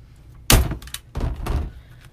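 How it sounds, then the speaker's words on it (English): A staple gun is pressed against a placemat, giving a hard thunk followed by a shorter, duller knock and rustle. Both are close and fairly loud, with nothing else in the background. "Use your staple gun to push it."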